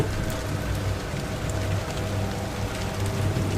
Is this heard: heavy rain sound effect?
yes